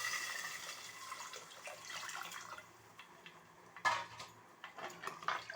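Fish curry gravy poured into a pan of softened onions and tomatoes, heard as light liquid splashing with clinks of a pot and utensil, moderately close, with a sharper clatter near the end.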